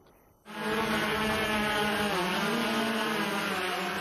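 A drone starts its propellers with a sudden rise into a loud, steady buzzing whine close by, and the tone wavers slightly as it keeps running.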